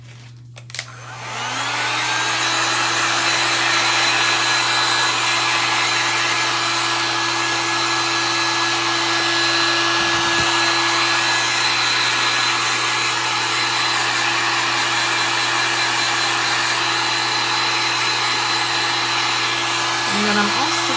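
A hair dryer switches on and blows steadily to dry chalk artwork, a loud, close, constant whooshing whine that holds evenly for about twenty seconds with no talk over it.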